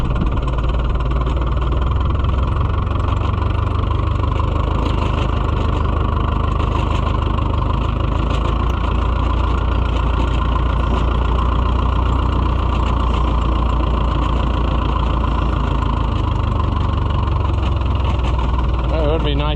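A white Iseki tractor engine idles close and loud with a steady diesel rumble and knock throughout, running without a break.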